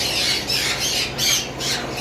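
A caged cockatiel at a bird sale gives repeated loud, harsh squawks, roughly three rising shrieks in quick succession close to the listener.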